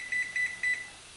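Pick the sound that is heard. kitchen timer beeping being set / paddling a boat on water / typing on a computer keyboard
kitchen timer beeping being set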